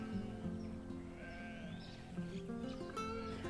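Sheep bleating on a farm with about a hundred ewes, several overlapping calls rising above a steady mix of animal noise, moderately near with no talk.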